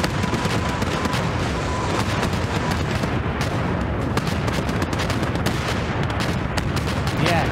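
Dense, continuous gunfire and artillery blasts fill a battle in the World War II shooter OstFront, rapid overlapping shots and booms with no pause, loud and relentless from start to finish.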